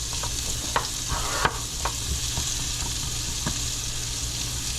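Vegetables sweating in a hot pan while being stirred, a continuous close sizzle broken by a few scraping knocks of the utensil against the pan, no voices present.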